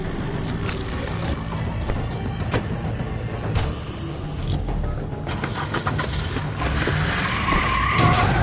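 A car skids through a chase in The Wolf Among Us, tires scrubbing loudly and continuously over a steady engine roar, with sharp bangs and impacts scattered throughout.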